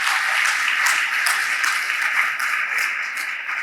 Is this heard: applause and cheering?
yes